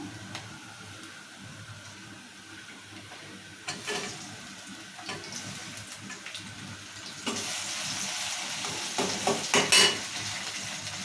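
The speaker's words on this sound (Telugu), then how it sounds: "ఎర్రగా నూనెలో గోలించుకుంటే బాగుంటుంది ఇప్పుడు టమాటా వేసుకున్నాము" Tomatoes fry in oil with onions and chilies, a soft steady sizzle with occasional stirring scrapes, growing brighter and louder in the later seconds; no voices.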